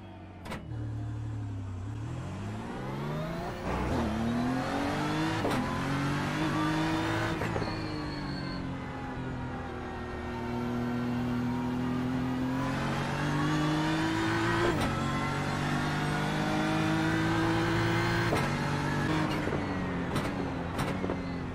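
A GT race car engine in an eRacing sim revs loudly and repeatedly, pitch climbing through the gears with sharp shift cuts between rising sweeps, sustained and close with no talking.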